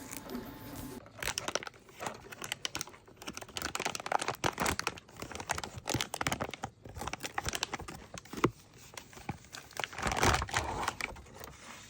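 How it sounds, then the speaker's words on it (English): Zip seal bag holding PETG glass fiber filament being worked open, a long run of close, irregular plastic crinkles and crackling snaps. "at this point I do manage to open the zip seal that is in there"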